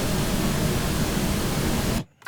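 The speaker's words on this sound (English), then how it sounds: "I also have a pink noise button on here." A studio pink noise button sends out a dense, even broadband hiss that holds steady and loud for about two seconds, then cuts off abruptly into near silence.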